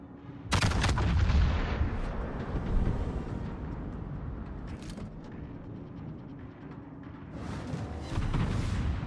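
Heavy naval cannon salvos from a Yamato battleship in World of Warships: loud, booming blasts with a deep rumble, several spaced shots echoing over continuous battle noise, with no talking.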